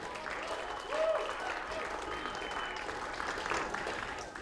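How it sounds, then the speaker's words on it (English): Audience applause at a live event on freelancing and creative work, dense continuous clapping from a room full of people, with faint voices and a whoop mixed in. "So a round of applause."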